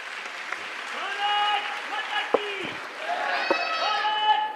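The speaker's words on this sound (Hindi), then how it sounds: "एक बार जोरदार तालियों से स्वागत करेंगे।" An audience at a Hindu religious gathering applauds to welcome a guest, with steady clapping and tonal voices or calls rising over it.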